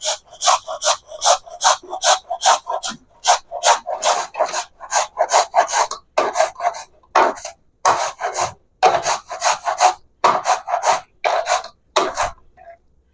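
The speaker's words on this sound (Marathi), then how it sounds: "मी अशा पद्धतीने पूर्ण किसलेला आहे" Red pumpkin rasped by hand against a grater, close and loud, in steady rhythmic strokes about one per half second with brief pauses between runs.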